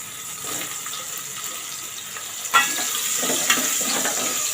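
Vertically sliced onion hits a pan of spiced oil for matar pulav, giving a soft continuous sizzle with a couple of sharper spatter pops partway through and faint stirring scrapes.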